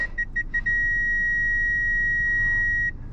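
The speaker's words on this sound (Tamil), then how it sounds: "அந்த பீப் சவுண்டு." Kia Sonet 1.2 petrol HTK(0) parking sensor beeping: a few short bright beeps in quick succession, then one steady loud tone held for about two seconds before cutting off, with no talking.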